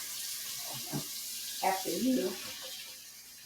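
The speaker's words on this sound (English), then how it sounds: "Then you're going to put them in the sink, cover them with water, cold water." Cold tap water runs into a kitchen sink over collard greens, a soft steady splashing while a person speaks briefly over it.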